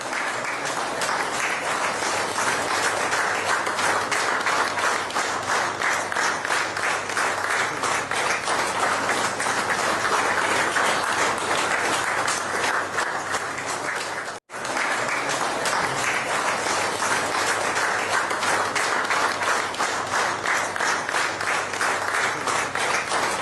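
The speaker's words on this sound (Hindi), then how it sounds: "तो पीएमओ जब पहुंचे तो आप देखिए, तालियों के साथ प्रधानमंत्री का स्वागत किया गया।" Sustained applause from a crowd welcoming Prime Minister Modi at the Prime Minister's Office, steady and dense clapping throughout with a brief cut near the middle.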